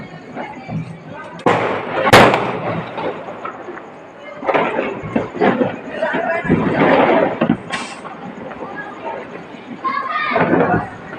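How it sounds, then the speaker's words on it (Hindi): Diwali firecrackers burst around a balcony at night, sharp cracks and booms, several loud near ones with echoing rolls between, mixed with distant pops, children's voices and chatter. "पटाखे की आवाज़ें तो बहुत ही गूंज रही"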